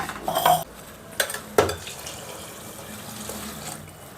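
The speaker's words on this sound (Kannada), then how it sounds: "ನಾನಿವಾಗ 2 ಗ್ಲಾಸ್ ನೀರನ್ನ ಹಾಕಿದ್ದೀನಿ." Two glasses of water added to masala-coated rice in a cooker pot for vegetable pulao, heard as faint splashes and a couple of sharp metallic clinks of a glass or spoon against the pot, quiet and close.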